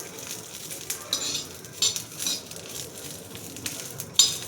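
Green chillies roast on a hot griddle for thecha, a faint steady sizzle broken by several sharp metallic clinks and scrapes as they are moved about.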